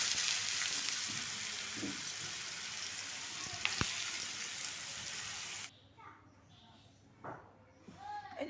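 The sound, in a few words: shredded potatoes frying in oil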